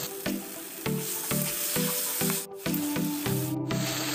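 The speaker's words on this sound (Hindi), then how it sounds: "अभी लहसुन और अदरक का पेस्ट को डाल देते हैं।" Garlic and ginger paste fries with onion and tomato in a pan, a close sizzle broken by a regular series of scraping strokes roughly every half second as the mixture is stirred, with no voices.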